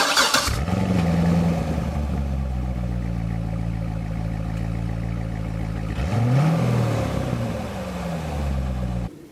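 A 2007 Chevrolet Corvette C6 Z51 with an LS2 V8 and six-speed manual revs loudly and close by, with a deep rumble that climbs and falls twice over a steady idle.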